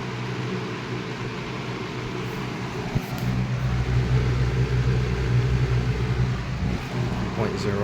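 A 1998 Lakewood model 200/I 20-inch three-speed portable fan with a shaded pole motor runs on medium, giving a steady whooshing airflow and low motor hum close by, with a slight bump partway through as the sound settles.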